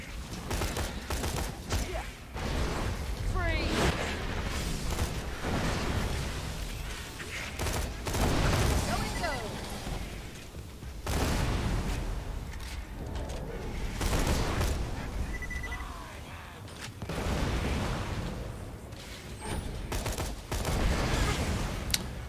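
Sustained gunfire from the Pearlescent Bearcat in Borderlands 3, with dense bursts of shots and explosive booms layered over busy battle noise against sandworms throughout.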